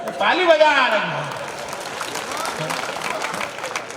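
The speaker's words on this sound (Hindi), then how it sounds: "ताली बजा रही है।" An audience applauds at a 2025 kavi sammelan poetry gathering in Sukheda held for Atal Ji's birth anniversary. The crowd claps in a steady wash that begins under a brief spoken voice and keeps going.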